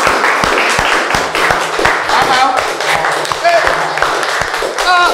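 A crowd claps for Chlorophyll in a Nollywood comedy scene: brisk, uneven applause with sharp individual claps, close and lively, mixed with voices talking over it.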